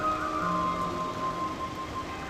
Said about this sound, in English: the rain does deplete your charge